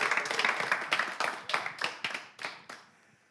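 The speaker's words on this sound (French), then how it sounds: "Vous avez besoin d'applaudissements?" A studio audience on the French game show Les Champions claps in a loose, rhythmic burst that starts strong and then thins out and fades over a few seconds.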